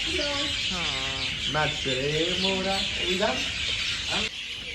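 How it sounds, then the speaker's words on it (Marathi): Several birds chirp and call in quick, rising and falling phrases over a steady background hiss, fairly close, at the Club Mahindra resort in Hatgad, until the calls cut off near the end. "पक्ष्यांचे आवाज तर किती येत आहे"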